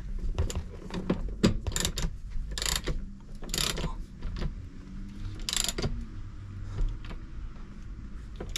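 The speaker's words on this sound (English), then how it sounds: "So the final step is just to tighten these 14mm bolts back up on the back of the seat." A ratchet tightens 14mm bolts on the back of a Toyota 4Runner seat with a seat jacker fitted. Rapid bursts of clicking pawl sound are heard close up at moderate level, broken by brief pauses and small knocks.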